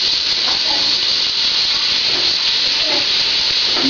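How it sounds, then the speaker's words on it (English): Garlic and onions sizzle in hot oil in a skillet for homemade chili, a bright steady hissing fry close to the listener with faint crackles. "Come in with your garlic and your onions. Get them in that hot oil."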